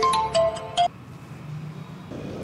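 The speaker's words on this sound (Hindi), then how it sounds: "नंबर ब्लॉक कर दिया तो अभी व्हाट्सएप कॉल कर रहा है।" A mobile phone rings with a WhatsApp call: a few short bright electronic tones in quick succession, loud and close, then quiet room background.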